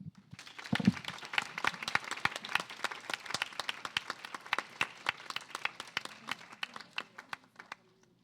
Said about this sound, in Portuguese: Uma salva de palmas para a equipe